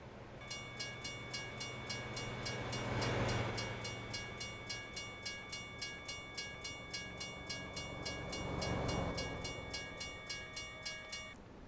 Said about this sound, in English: unfortunately that train went by and kind of made some noise